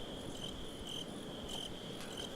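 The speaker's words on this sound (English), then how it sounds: "So what are we hearing in the original right now? We're hearing crickets." Crickets chirping in the original Resident Evil 4 game soundtrack, a steady high trill with brief repeating pulses about every half second over a quiet night ambience, no voices.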